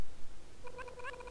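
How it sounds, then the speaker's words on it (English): A short cartoonish cat meow sound effect plays in a Scratch chasing game, a single faint, slightly wavering tone rising briefly near the end of the moment with no talking. "it plays meow, but it doesn't stop as soon as it starts playing meow"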